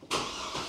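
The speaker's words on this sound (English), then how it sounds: "So let me just crank the truck back up." A truck engine is cranked and fires up after a brief quiet moment, settling at once into a loud, steady running rumble close by.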